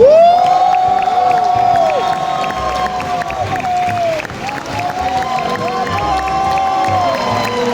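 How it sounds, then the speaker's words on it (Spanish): A crowd at Comic-Con Málaga cheering and whooping loudly with some clapping to welcome a guest, continuous and energetic throughout. "vamos a recibir con un fuerte aplauso a Álvaro Luzón."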